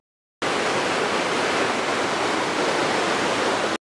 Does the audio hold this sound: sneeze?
no